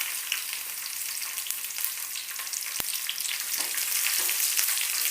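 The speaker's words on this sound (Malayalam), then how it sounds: "കിസ്മിസ് പെട്ടെന്ന് തന്നെ മൂത്ത് കിട്ടും." Cashews and raisins frying in hot ghee in a pan, a steady, dense sizzle that is close and continuous, with one brief knock partway through and the frying growing slightly louder toward the end.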